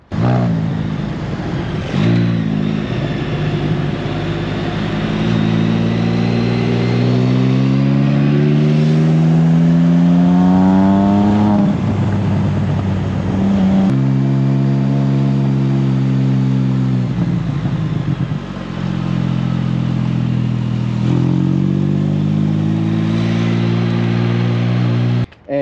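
A Can-Am Spyder F3 three-wheeled motorcycle fitted with an aftermarket RLS exhaust revs loudly and repeatedly, its engine note rising and falling through several strong throttle blips, close and continuous with no talking.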